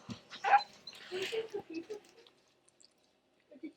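A small puppy whimpers and yips in quick, close, soft bursts mixed with a little voice, then goes almost silent before a brief final squeak.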